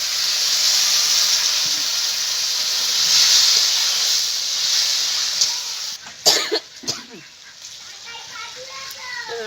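Water hits hot spice paste in a pan for a taro-stolon and prawn curry, bursting into a loud broad hiss that slowly fades, followed by a few clattering knocks and some background noise.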